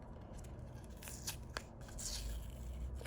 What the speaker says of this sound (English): I'll just take all the tape off